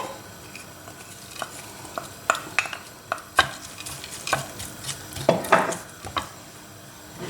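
Finely sliced shallots and a little garlic fry in table oil, a steady soft sizzle broken by several sharp scrapes and clinks of a utensil stirring against the pan, close and fairly quiet with no talking.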